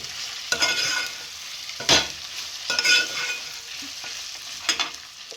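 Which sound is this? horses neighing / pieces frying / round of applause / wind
pieces frying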